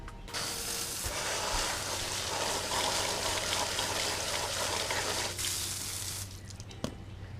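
Water runs steadily over car wash gloves as they are wetted, a continuous close splashing rush that stops near the end, followed by a faint click.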